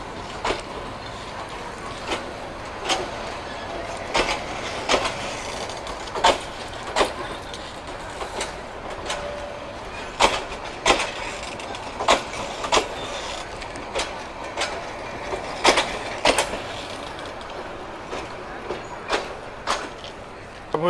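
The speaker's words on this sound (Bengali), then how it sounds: "দেখতে পাচ্ছেন গধূলি বেলায় মহানগর এক্সপ্রেস বেরিয়ে যাচ্ছে ভৈরব থেকে" The Mahanagar Express pulls out of Bhairab station at dusk, a steady rumble with repeated rail clacks and rattles at irregular intervals, fairly close, amid station ambience.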